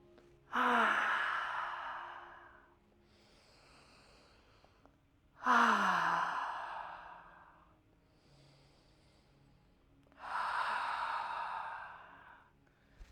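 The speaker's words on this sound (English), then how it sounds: "trace up and around the torso, up the neck, and around the mouth for 3 audible exhales" Three long, audible exhales during a yoga breathing exercise come through close and clear, each a breathy sigh lasting about two seconds and separated by quiet pauses.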